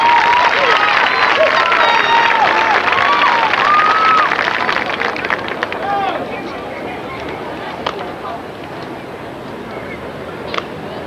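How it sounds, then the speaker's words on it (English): A crowd at a high school graduation ceremony applauds and cheers loudly for performers, then the clapping thins out and fades to scattered claps over a murmuring room. "How about a round of applause?"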